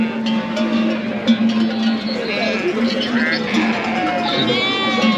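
Goats bleating amid a transhumance herd passing through Paris, cries rising now and then over a steady low drone and crowd noise, with people talking nearby.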